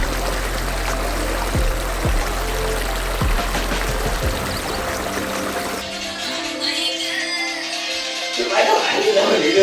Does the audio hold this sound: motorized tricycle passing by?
no